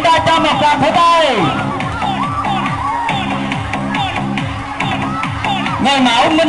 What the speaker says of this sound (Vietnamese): Chúng ta cho một tràng pháo tay.